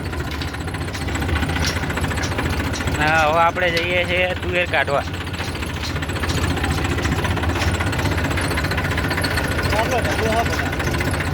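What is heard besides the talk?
tractor engine running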